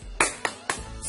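Children in a primary school maths class perform a rhythmic spirit clap, three sharp, evenly spaced claps followed by the start of a fourth.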